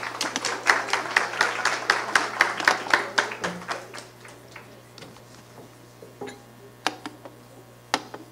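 Audience applause at an election forum at Unicamp, heard as fairly close, rhythmic clapping that starts strong and thins to a few scattered claps.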